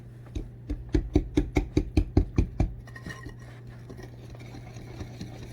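A hand whisk beats a mixture in a bowl, making about a dozen rapid, evenly spaced taps close by that stop abruptly, followed by quiet room hum.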